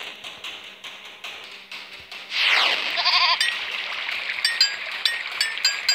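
A goat bleats inside a video game, a short bleat standing out over busy game sounds with tapping and chiming effects, moderately loud and close.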